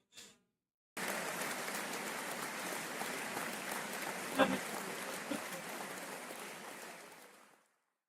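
A crowd at an 8-ball pool tournament claps through a championship match. After a short burst, a dense, even wash of applause sets in and holds for several seconds before tapering away.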